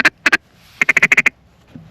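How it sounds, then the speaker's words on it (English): Mallard ducks quack loudly and close in a Montana hunting setting, two quick calls followed by a rapid run of about seven quacks, with no talk. "We got a single mallard cupped up on the left."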